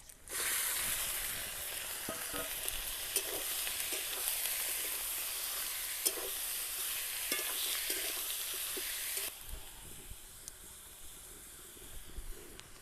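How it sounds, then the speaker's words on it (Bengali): Garlic and ginger sizzle loudly in hot oil as 500 grams of chicken go into the pan, a steady bright hiss broken by occasional stirring scrapes, then the sizzle drops suddenly quieter near the end. "আদা রসুনটা আমার ভাজা ভাজা হয়ে গেছে, কারণ আমি 500 গ্রাম চিকেন নিয়েছি। এটা এবার এর মধ্যে দিয়ে দেব।"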